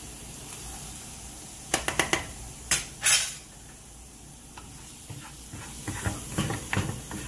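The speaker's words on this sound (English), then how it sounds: "Again, give the potatoes a nice stir." Potatoes cooking in a pot get stirred, giving a few sharp scrapes and clinks of a utensil against the pot over a steady background hiss of cooking, with softer clatter near the end.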